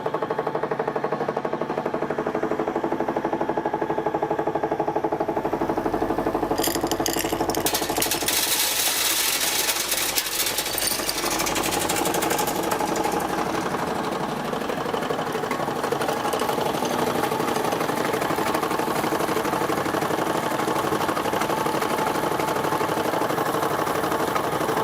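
An M&W JAWO jaw crusher grinds dry iron pellets with 2 to 4% moisture content, a loud, continuous mechanical rumble and rattling clatter that swells into a harsher crunching burst partway through before settling back into a steady drone.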